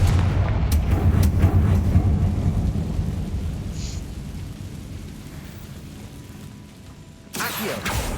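A Confringo blasting spell in Hogwarts Legacy detonates with a deep, booming explosion that rolls and decays over several seconds before a sharp new burst of noise cuts in near the end.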